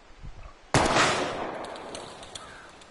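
A single sharp gunshot rings out in the video game Life is Strange, fired at an old blue plank, sudden and loud, then a long decaying echo with faint background ambience.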